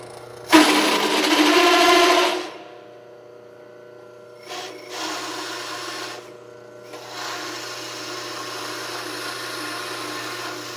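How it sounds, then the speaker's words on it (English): A power drill whines loudly for a couple of seconds, then two quieter, longer bursts drilling holes in a board follow with brief pauses between, all close by. "now I'm just going to line it up and drill the holes"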